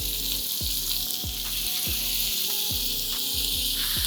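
Half a kilo of double beans sauté with onion in a pan for a pulao, with a constant loud frying hiss. Regular spatula scrapes repeat about every second, close up, with no talking.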